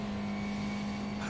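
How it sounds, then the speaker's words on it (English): Race car engine in a sim-racing esports championship at Canadian Tire Motorsport Park, holding a steady droning tone as the clutch is pulled into turn 1, sounding continuous and fairly loud without talk. "Just hearing him pull in the clutch there as he goes into turn 1, just the revs completely die down"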